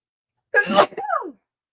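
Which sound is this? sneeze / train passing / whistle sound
sneeze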